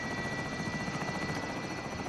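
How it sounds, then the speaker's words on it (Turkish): A helicopter in the video game Call of Duty: Warzone thrums steadily overhead, a loud continuous rotor drone with a high whine running through it and no talk. "Oğlum yine helikopter geldi."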